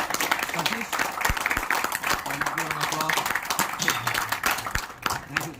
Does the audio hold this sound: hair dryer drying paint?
no